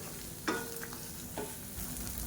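Grated radish for chutney sizzles in a hot pan, a continuous frying hiss broken by two or three scraping strokes of a spatula, close up with no voices.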